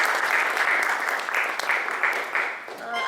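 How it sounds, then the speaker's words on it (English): Audience applause at a stock market training conference, dense sustained clapping from a sizable crowd, steady and fairly loud, tapering slightly near the end while a voice begins underneath. "Let's have a big applause for that."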